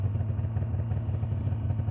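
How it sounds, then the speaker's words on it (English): A Polaris Indy 550 snowmobile engine idles steadily with a low, throbbing rumble and light mechanical clatter, close by and unbroken. "The engine sounds pretty good, idling, running."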